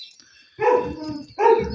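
A dachshund being trained on wild boar gives two sharp, close barks about a second apart, with a faint high whine before them.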